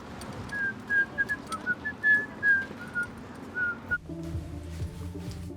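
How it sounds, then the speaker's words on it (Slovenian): A person whistles a tune on a walk home from work. The short melodic phrases are clear and near over low outdoor background noise, and the whistling stops as a different background takes over. "Včasih, ko hodim domov iz službe, si preprosto žvižgam."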